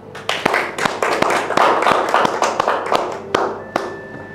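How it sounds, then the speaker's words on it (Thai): Office staff clap for the month's top salesperson, a loose round of applause from a small group with sharp individual claps standing out, close and fairly loud. "ปรบมือสิครับ"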